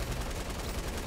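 A light machine gun (LMG) in the video game Fortnite fires in an unbroken, loud burst with no pauses across the whole short stretch.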